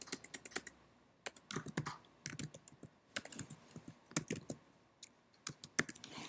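Typing on a computer keyboard in bursts of quick, close clicking keystrokes with short pauses between runs, quiet and alone with no voices.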